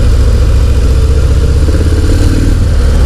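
A 2019 Harley-Davidson FXDR 114 motorcycle riding on the road, its engine a loud, steady, close rumble with heavy low-end throb and wind noise, no voices.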